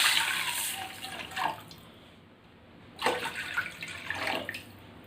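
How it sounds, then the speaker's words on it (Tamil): Two cups of water poured into a kadai, a close, splashing broadband gush in two bursts with a quiet pause between them. "கடாயில் நான் 2 கப் தண்ணி ஊற்றுறேன்."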